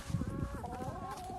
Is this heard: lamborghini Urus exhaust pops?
no